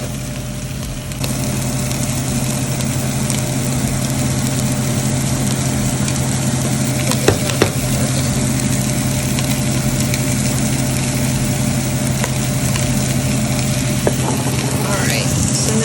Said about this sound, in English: We're just going to stir this up, and I'm about to grab that cayenne pepper, but you're basically just kind of like roasting the corn